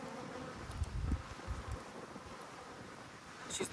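Honeybees hum and buzz continuously around their queen inside a water meter box, a close, steady insect drone with slight swells in loudness and no talking.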